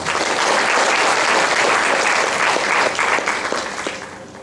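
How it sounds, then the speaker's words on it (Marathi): Loud, dense clapping from an audience at a community event fills the room, staying strong and then easing off toward the end. "आपण यासाठी जोरदार टाळ्या वाजवूया"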